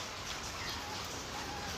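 Steady rain hisses across the whole clip, a dense even patter with no talk, close and fairly quiet, heavy enough to flood outside.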